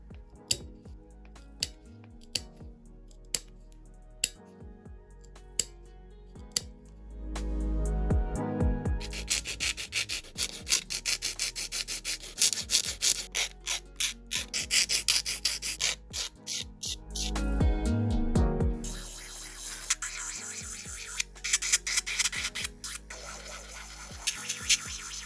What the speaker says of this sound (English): I'm just going to get them reshaped and trimmed down.